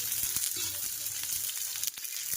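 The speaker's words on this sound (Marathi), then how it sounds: "तव्यावरती कांदा टाकलेला आहे आता आपण एक चमचा तेल टाकून घेऊया" Onion sizzling in oil on a hot griddle, a soft steady frying hiss with small crackles and a few light clicks of a spoon, heard close and moderately quiet.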